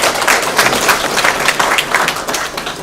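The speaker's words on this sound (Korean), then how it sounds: "한번 격려의 박수 한번 좀 보시기 바랍니다." An audience claps at a citizens' briefing in Jecheon on the Wangam-dong waste landfill, giving a fairly loud burst of many hands with distinct claps standing out, with no speech.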